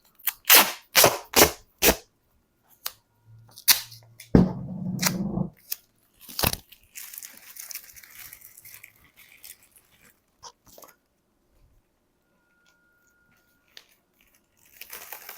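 Duct tape being pulled off the roll and torn. A quick series of sharp, loud rips comes first, then a longer, ragged peeling stretch that tapers into near silence.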